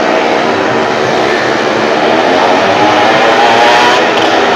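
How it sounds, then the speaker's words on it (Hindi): Two motorcycles circling the wall of a well of death stunt ride at a fair, a dense, steady roar of engines echoing inside the wooden pit, loud and continuous. "ये दो बाइक चल रहे हैं दोस्तों, ये देख सकते हो।"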